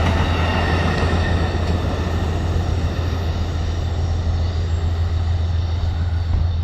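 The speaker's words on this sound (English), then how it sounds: "We are getting to see a train. Now this one isn't stopping." An Amtrak train passes through Hudson station without stopping, a loud, close and steady rumble of rolling wheels and cars that roars on unbroken from start to finish.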